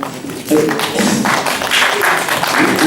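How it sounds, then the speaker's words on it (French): Applause from the audience at a French opposition meeting swells in after a brief quiet start, a loud, even wash of clapping that holds steady to the end. "pouvez applaudir"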